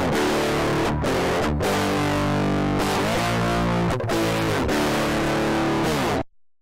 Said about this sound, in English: In this tutorial, we'll look at distortion and how you can use Waveshaper to make sounds like this.